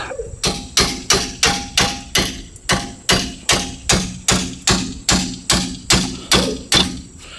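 A hammer strikes a chisel again and again while knocking the rear wheel bearing out of a 2009 Subaru Forester: about sixteen loud, evenly spaced metallic blows in a steady, close rhythm, with no voices.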